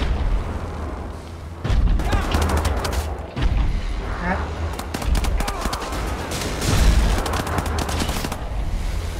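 Rapid gunfire from a newly picked-up gun in the PC shooter Wolfenstein: The New Order, with bursts of shots and booming impacts across the clip, loud and close, mixed with game effects.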